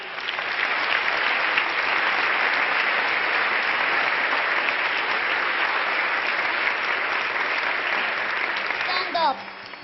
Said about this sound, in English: you can have a big applause for the 12 ladies which are here